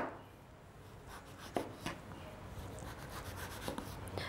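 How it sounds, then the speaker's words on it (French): Faint, close rasping and scraping as a sharp knife cuts the thick peel off an orange, with a few soft thumps and scrapes in a quiet kitchen. "c'est ce qu'on appelle peler à vif. On enlève la grosse peau."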